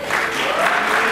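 An audience at a swearing-in ceremony applauds elected officials with a brief, steady burst of many hands clapping, fairly loud and even throughout.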